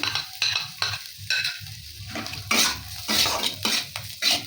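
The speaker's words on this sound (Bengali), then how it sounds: "এতে একটু লাল করে ভেজে নিতে হবে" Green chili and chopped garlic fry in oil in a pan, a steady close sizzle broken by repeated scraping stirs and clinks of a metal utensil, with no talking.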